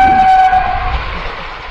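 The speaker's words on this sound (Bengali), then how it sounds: "বাহ, এখানে ট্রেনটা চলে এসছে।" A loud train rumbles past a railway crossing with a sustained horn blast at the start, then a fading rolling roar.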